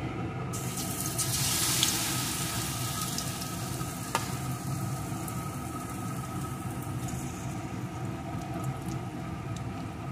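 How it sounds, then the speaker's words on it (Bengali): Spoonfuls of batter drop into hot oil in a pan over low gas, giving a steady close-up sizzle and crackle that swells at first, then settles into an even fry, with one brief sharp tap of the spoon. "এখন যে ব্যাটারটি তৈরি করে রেখেছিলাম সেই ব্যাটার থেকে চামচে করে নিয়ে এর ভিতরে দিয়ে দেব।"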